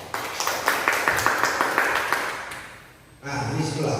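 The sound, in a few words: class applause, clapping hands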